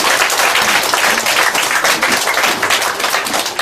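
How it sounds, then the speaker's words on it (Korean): A church congregation bursts into steady applause, dense and continuous clapping from many hands filling the room, with no talking over it. "자, 우리 박수 한번 해주시기 바랍니다."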